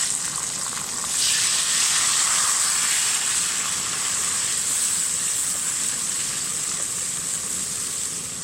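Tomatoes hitting hot oil in a pan of village-style aloo gobi curry with garlic-ginger paste, a loud steady sizzle and frying hiss that swells after a second and then holds, no talking.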